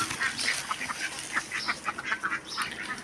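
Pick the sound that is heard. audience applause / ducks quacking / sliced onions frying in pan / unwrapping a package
ducks quacking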